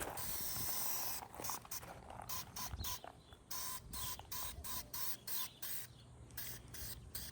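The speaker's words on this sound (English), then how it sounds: "Now we're doing it just out of a can, so I mean the overspray isn't going to be as bad as with your professional gun" A rattle can of gray primer is sprayed outdoors on a Pontiac, giving repeated close, hissing bursts separated by short pauses.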